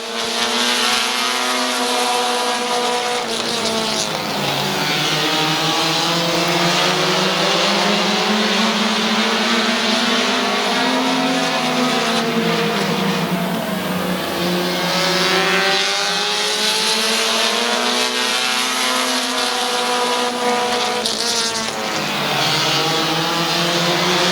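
Race cars roar around Midvale Speedway, a loud, continuous wall of engine noise with pitch swells and fades as packs of cars pass close by and pull away, all through the clip.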